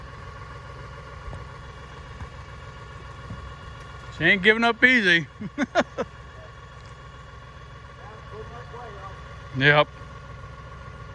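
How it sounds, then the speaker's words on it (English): A tractor engine idles at a camp in a low, steady drone that runs the whole time, while people talk briefly over it and a voice calls out again near the end. "Tractor will take care of it, I'm sure."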